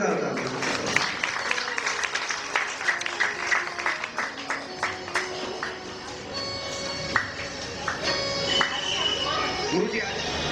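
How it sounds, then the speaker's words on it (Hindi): Applause from a devotional Bhagwat Katha gathering in Delhi, with scattered claps under ongoing background talk and music, moderately loud and fairly steady throughout. "जोरदार ताली।"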